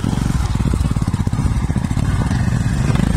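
A Royal Enfield Himalayan 450 motorcycle engine runs close by with a steady, throbbing, pulsing beat at a constant idle.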